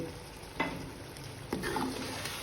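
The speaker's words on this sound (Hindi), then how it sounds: "अब हम इसमें डालेंगे आलू। बिस्मिल्लाहिर्रहमानिर्रहीम, आलूओं को इसमें अच्छी तरह से हम भूनेंगे।" Potatoes fry in spices in a pan for aloo palak, a soft steady sizzle broken by two sharper stirring clacks, close and without speech.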